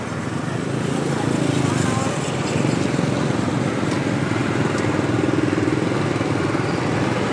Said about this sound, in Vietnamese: Đó, xe máy, xe đồ cũng đông lắm đó anh chị.